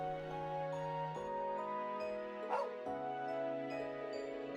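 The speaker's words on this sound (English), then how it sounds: "Woof, woof. He says it's okay. Smart doggy." A cartoonish dog's bark and whimpering yips sound in a Trails of Cold Steel 2 scene, playing over sustained game music with a brief rustling swell midway.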